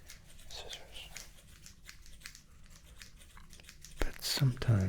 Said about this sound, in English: wielding scissors